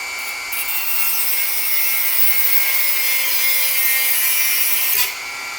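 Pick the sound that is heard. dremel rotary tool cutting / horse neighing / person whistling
dremel rotary tool cutting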